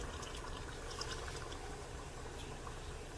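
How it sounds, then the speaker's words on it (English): A cup of water poured into a pot of smothered cream of chicken, a steady close splashing fill that runs without a break for a few seconds. "go ahead and add your first cup of water"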